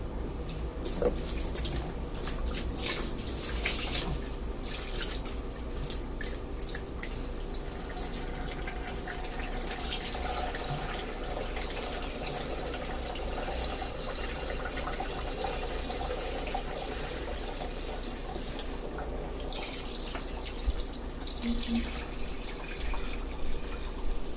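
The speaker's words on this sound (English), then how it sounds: "So I'm just going to pour in the same water I took out." Water is poured back into an aquarium being set up with dirted substrate, a steady continuous splashing and trickling that runs close and even for over twenty seconds, with no talking.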